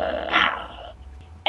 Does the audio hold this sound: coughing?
no